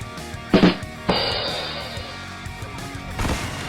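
A rocket launcher blast in Fortnite sounds as two loud booming bursts, the second ringing out with a long decaying tail, followed later by a softer rumbling hit.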